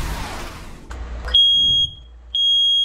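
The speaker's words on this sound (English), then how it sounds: "Working smoke detectors should be on every floor and in every sleeping space." A household smoke detector sounds two loud, sustained high-pitched beeps separated by a short gap, following a brief stretch of low background noise.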